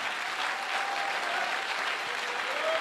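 Audience applause fills a church gathering, a dense, steady wash of clapping at moderate loudness for the whole stretch.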